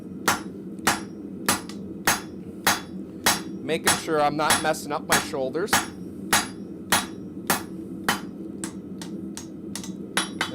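A blacksmith hammers a rusty hammer head on an anvil at the forge, with sharp, ringing metal strikes in a steady rhythm and a brief flurry of rapid ringing blows midway; someone talks quietly underneath.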